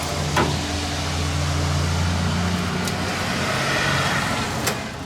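Steady morning street traffic with passing cars and buses forms a continuous low rumble and hum, joined by a few brief sharp clicks and knocks nearby.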